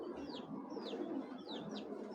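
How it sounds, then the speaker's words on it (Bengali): A young racing pigeon, a 2022 bird, gives soft, low cooing mixed with a few thin, high chirps, faint and close against a steady background murmur with no talk. "এই যে দেখুন একেবারে ইয়াং কবুতর, 2022-এর কবুতর"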